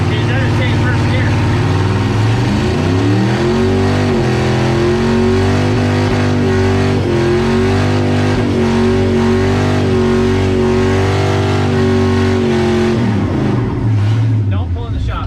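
A Ford Ranger swapped to a 5.3 LS V8 with a new cam revs loudly and close, the engine note climbing, holding and then falling back to idle, with voices nearby.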